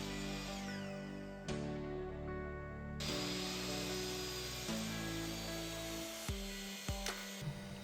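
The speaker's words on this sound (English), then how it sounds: "I started off with the mitre saw just to cut the boards down to their final dimension" A mitre saw whines through wooden boards, cutting them to length in a workshop, with several sustained cuts and motor spin-ups and spin-downs but no talking.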